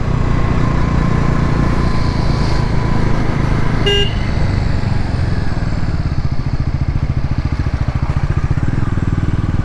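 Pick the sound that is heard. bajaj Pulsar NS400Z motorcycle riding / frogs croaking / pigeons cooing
bajaj Pulsar NS400Z motorcycle riding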